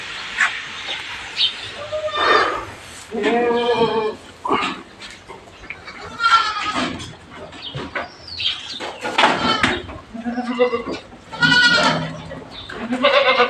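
Goats and young kids bleat repeatedly in their shed at midday feeding, with fodder put in the trough; overlapping near and far cries come in bursts throughout, with background murmur.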